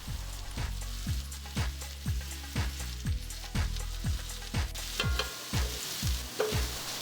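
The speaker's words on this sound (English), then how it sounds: "I'm adding about 1 tablespoon of olive oil in order for me to saute the onions" Onions sauté in about a tablespoon of olive oil over high heat, crackling and hissing continuously while a regular low thumping pulse runs underneath. No speech.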